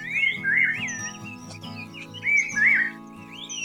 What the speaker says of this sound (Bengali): এখানে আপনারা একটু খেয়াল করে দেখুন কত রকম পাখি ডাকছে